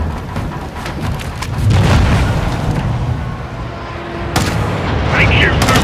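Video game gunfight in Call of Duty: Modern Warfare II, with dense bursts of gunfire and booming impacts rolling continuously over a loud battle bed, a sharp blast near the end, and voices talking under the combat.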